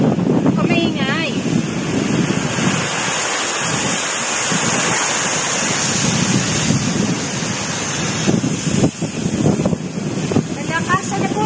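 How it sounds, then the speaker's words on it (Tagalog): Strong typhoon wind from Typhoon Dante in 2021 roars steadily and loudly into the microphone, with gusty surges and a rushing, surf-like background throughout. "Nalakasan na po ng bagyo."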